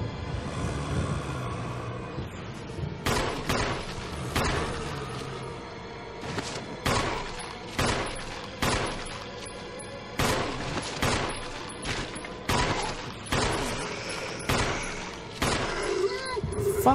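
Gunfire in the game Resident Evil HD: a series of loud, sharp shots, roughly one every second, rings out in a steady rhythm over a low droning background, with talk mixed in.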